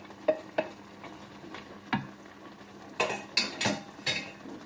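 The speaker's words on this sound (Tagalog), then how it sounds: "Lagay na po natin tong carrots. Ayan, lutuin po natin yung carrots." Carrots and onion for pancit get stirred in a pan, with a series of scraping clinks of a utensil against metal and a light sizzle, the clatter growing busier and louder toward the end, with no talking.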